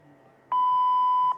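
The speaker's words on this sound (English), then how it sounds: "At the tone, 0 hours, 44 minutes, Coordinated Universal Time." A steady electronic time-signal tone marks the hour, one clean sustained beep of about 0.8 seconds, loud and alone after a quiet lead-in.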